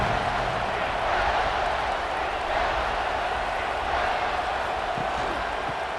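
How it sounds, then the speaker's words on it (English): A stadium crowd roars steadily through a third-down play in the EA Sports College Football 26 video game, a dense, sustained wash of cheering noise with no clear breaks. "Crowd getting this defense whipped up on 3rd down."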